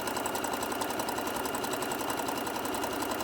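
A sewing machine stitches a seam on a small tote bag, a steady close mechanical whir with a fast even needle rhythm and no pauses.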